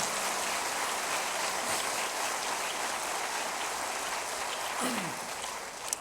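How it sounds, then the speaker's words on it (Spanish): Congregation applause during a church sermon, a broad steady patter of many hands, fairly faint and distant, continuing evenly with no speech over it. "Denle un aplauso."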